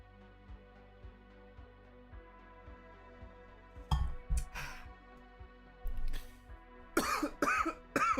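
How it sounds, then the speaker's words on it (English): Several dry coughs and throat clearings come close to the mic, scattered through quiet pauses and growing louder toward the end, with faint clinks in between. "I'm coughing for absolutely no reason whatsoever"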